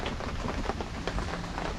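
Rain falls outdoors in a steady, moderate wash with soft scattered patters close to the microphone, and no voices.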